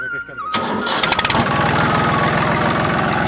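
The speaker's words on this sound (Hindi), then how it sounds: "अब ट्रैक्टर को स्टार्ट करें आप" A tractor engine cranks and catches after a brief whine, then settles into a loud, steady rapid chugging idle close by.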